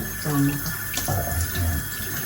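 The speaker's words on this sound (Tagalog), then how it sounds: "naghuhugas ng ating lulutuin" Cooking ingredients being rinsed under a running kitchen tap, a steady close water stream splashing and shifting as items are moved through it, with brief muffled handling sounds and no speech.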